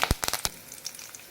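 Chana dal, dried red chillies and curry leaves crackle and pop as they fry in hot oil, with a few sharp snaps at first that fade into a light, scattered sizzle.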